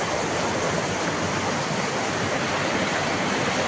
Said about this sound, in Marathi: नदीचं पाणी बघा. फुल नदी भरून चालली बघा. कसं पाणी आवाज करायला बघा.